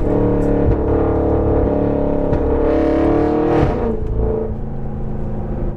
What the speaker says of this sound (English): it is a valved exhaust, so maybe the valves open at a certain point in the rev range, but it is definitely the loudest car I've ever driven